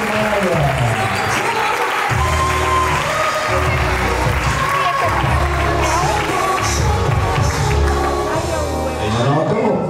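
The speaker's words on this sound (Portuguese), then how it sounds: "Palmas para a Cerveja Maia." Loud, sustained audience applause with some cheering at a Christmas party event, dense clapping throughout, mixed with background music and voices.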